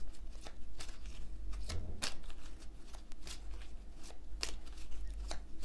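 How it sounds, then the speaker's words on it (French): Oracle cards being shuffled by hand: a quick run of crisp, riffling flutters repeating in a steady rhythm, close and alone with no voices. "Concentration pendant que je brasse les cartes"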